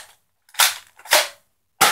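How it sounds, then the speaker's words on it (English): Three sharp, close pops from a toy foam dart blaster fire in quick succession, each a short burst separated by brief silence. "I will shoot 6 darts for you guys, though."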